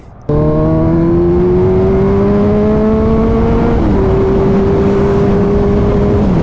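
A motorbike engine catches abruptly and holds a loud, close, steady drone whose pitch climbs slowly as it revs, then dips briefly and settles again.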